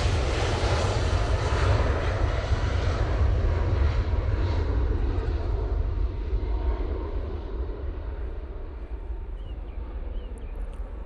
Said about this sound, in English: How good was that landing? Beautiful from the Cathay.